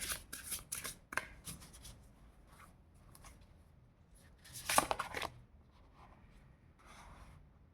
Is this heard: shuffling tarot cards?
yes